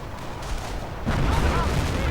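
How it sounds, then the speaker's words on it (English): Nebelwerfer rocket artillery strikes in a World War II strategy video game, arriving as a dense, rumbling burst of low booms that swells abruptly halfway through and stays loud with crackling debris to the end. "Nebelwerfer hits in counter response"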